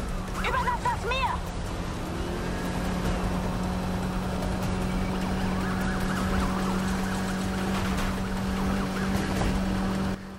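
Police car sirens wail steadily in the Need for Speed Heat racing game, with a low engine drone beneath and someone talking over the chase throughout.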